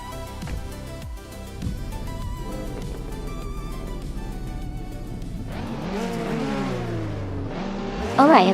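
Race cars at the start of a Highlands Motorsport Park Long Track race in a racing video game, including a 2015 SEAT Leon, rev and accelerate with rising engine pitch and tire squeal, close and loud, with talk underneath.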